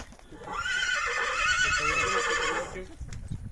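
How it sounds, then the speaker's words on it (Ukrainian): A draft horse mare, 11 years old, lets out a long, loud whinny lasting a few seconds, rising then trailing off, with faint background noise around it. "Кобила таврова."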